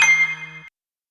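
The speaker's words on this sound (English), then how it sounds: "I can't believe the voice recorder thing or whatever recorded my ringtone." Phone ringtone chime caught on a voice recorder, a single bright ringing tone that starts loud and fades out within under a second, followed by silence.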